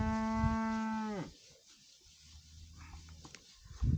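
A cow gives one loud, close, drawn-out moo lasting about a second, then the pasture goes quiet with only faint low background sounds and a brief soft noise at the very end.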